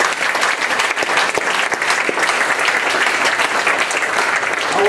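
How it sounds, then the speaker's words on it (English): Audience applause at a college Black History Month event, a steady, full roar of many hands clapping at an even level throughout. "Now let's give ourselves a round of applause"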